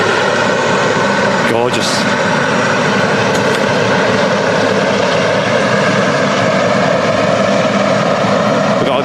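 A Gulf Air Boeing 787 Dreamliner jet at Manchester Airport roars loudly and continuously, its engine noise filling the whole stretch; a person briefly speaks over it near the start.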